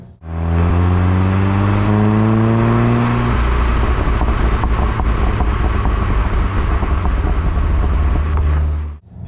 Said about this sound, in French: tu commences à avoir 10 fois plus le pop and bang qui arrive au niveau de l'échappement